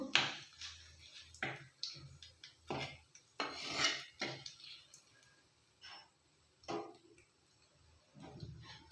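A spoon scrapes and taps in a pan as dry red chillies and bay leaves are stirred in hot oil, a series of quiet irregular knocks and clicks with faint gaps between.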